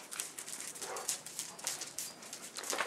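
Dogs in backyard kennels make a scattered series of soft whines and yips, fairly faint and at a little distance, with no talking.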